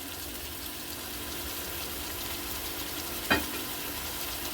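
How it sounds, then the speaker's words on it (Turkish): Oil sizzles under a lid in a pan on a stove, a steady frying hiss with one brief sharp crackle or spatter partway through. "Kapağı açarken ocağı kısıyorum çünkü yağ çok sıçrıyor"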